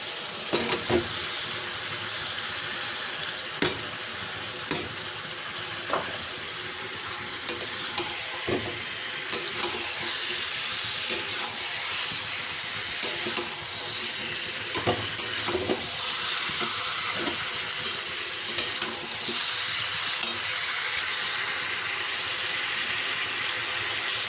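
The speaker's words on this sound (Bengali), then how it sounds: "মাংসটা আমার কষানো হচ্ছে" Meat being braised in a colourful gravy with whole garlic in a pan, giving a steady low sizzle and bubbling with occasional scraping stirs throughout, close and moderately loud, with no talking.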